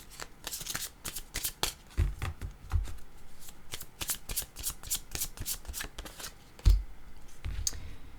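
Tarot cards riffle and slap in a quick run of crisp shuffles, with a couple of soft thumps as cards are set down and drawn, close and clear with no talking.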